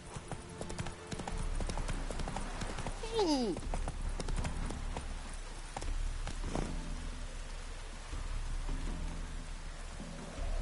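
Horse hooves clip-clop steadily over rain falling in The Witcher 3, a continuous patter of rain beneath the rhythmic steps, with a brief whinny-like sweep early on.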